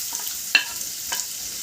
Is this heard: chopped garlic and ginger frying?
yes